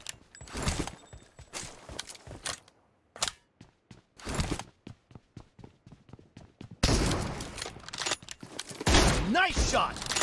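Rapid bursts of gunfire from PUBG Mobile in a team deathmatch, with sharp cracks coming in rhythmic volleys and dense clusters of shots, mixed with game announcer voice lines.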